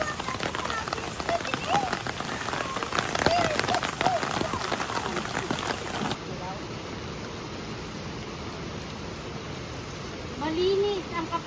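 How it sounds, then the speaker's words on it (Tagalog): Steady rain falling outdoors, a continuous hiss of drops with people talking over it in the first half, then quieter, more even rainfall. "Malinis ang kapaligiran. Kahit umuulan."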